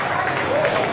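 A live audience applauds at a show, dense continuous clapping over about a second, fairly loud with crowd murmur mixed in.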